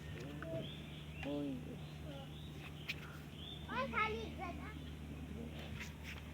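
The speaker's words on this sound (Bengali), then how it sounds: "গরম কিছু পাখি গোসা করতেছে শালিকে গোসা করতেছে" Common mynas call now and then while bathing, faint and partly buried under nearby chatter and a steady low hum, with brief chirps scattered through.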